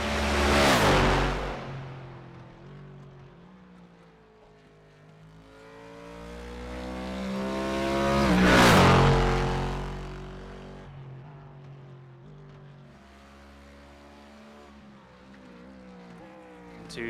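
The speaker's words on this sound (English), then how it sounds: "off board the car sounds even better" A race car in the W12 Sprint Series on iRacing, heard from outside the car: the engine swells as it roars past, then fades, and a second loud pass follows before a quieter trailing drone.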